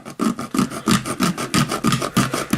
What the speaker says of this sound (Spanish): Entonces cortaremos aquí la cubierta de metal. Esta cubierta suele ser de zinc